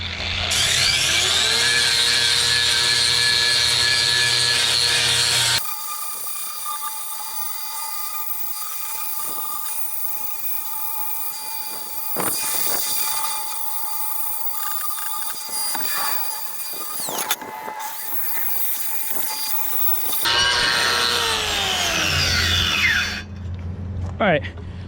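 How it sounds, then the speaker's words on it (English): A sander works over the middle pan of a Takeuchi TL240 compact track loader during cleaning, giving a loud, steady whine that changes pitch and load as it bites, eases off and spins up again. "I'm just gonna go ahead and use the sander on it"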